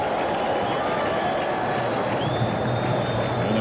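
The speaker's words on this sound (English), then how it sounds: "Crowd behind every pitch." Steady, distant roar of a stadium crowd at a 1985 Cubs–Mets baseball game in New York, continuous and even, with a faint whistle-like tone drifting above it.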